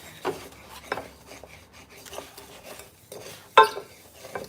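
Flat-based spoon scraping and stirring cumin seeds across the bottom of a pot, a few soft rasping strokes with light clinks, close and fairly quiet.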